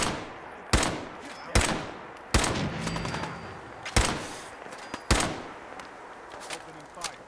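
Gunshots in the video game Fallout 4, with about six sharp, loud blasts spaced roughly a second apart, each decaying into a rumbling tail over a busy game background.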